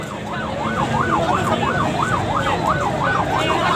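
Ambulance siren wailing in a steady rising-and-falling pattern, loud and close, over road traffic noise at a funeral procession in Karachi.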